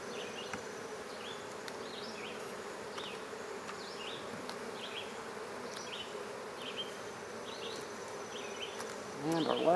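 Honey bees buzz steadily around hive frames filled with capped brood, nectar and honey during a nuc transfer, a dense continuous hum close by with a louder swell at the end.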